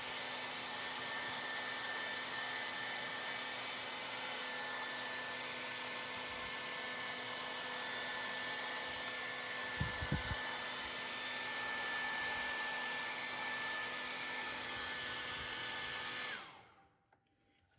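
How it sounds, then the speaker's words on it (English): A steady, close whooshing drone of a hair dryer drying an evaporating dish, blowing continuously, with a brief low thump midway, then it cuts off abruptly near the end. "I'm just going to take a hair dryer"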